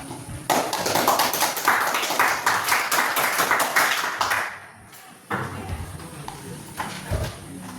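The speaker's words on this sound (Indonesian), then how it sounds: "Tepuk tangan untuk kelompok 3." A classroom applauds a student group with several seconds of dense, close hand clapping that fades out, followed by a few scattered claps and light noise.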